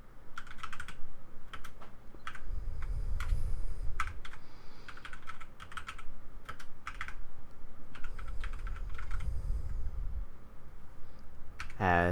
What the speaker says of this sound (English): type out the command.